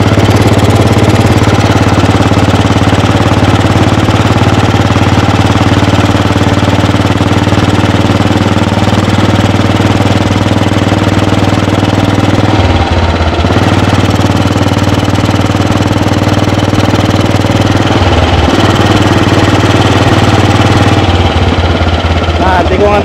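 A 1948 AJS 500 custom British motorcycle engine drones steadily while being ridden, a continuous rumbling note that dips briefly a couple of times as the throttle eases, with no talk over it.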